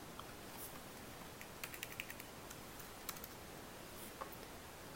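Faint, quiet keystrokes on a computer keyboard as an amount is typed in, a few scattered soft clicks over low background hiss.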